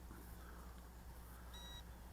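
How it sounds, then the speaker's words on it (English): A single short electronic beep from an Eachine EX5 brushless GPS drone during compass calibration, faint and brief over a low steady background hum, no talking. "Second beep"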